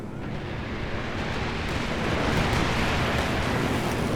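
P-47 strafing run explosions in the video game Company of Heroes 2, a dense continuous roar of overlapping blasts and rumble that builds slightly louder and holds steady, with no voices.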